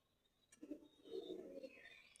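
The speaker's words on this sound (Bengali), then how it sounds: "আমার খামারের কবুতর" A white king pigeon at a home loft gives a soft, low cooing call lasting over a second, close by and fairly quiet, with a faint background hiss.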